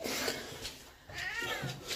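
A cat meows twice, close and fairly loud, with brief drawn-out cries in a quiet room.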